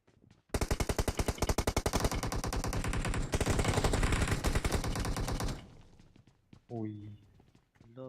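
A long, rapid burst of automatic gunfire rattles loudly in a ranked team shooter game, with steady rhythmic shots for about five seconds, then tapering off as voices talk.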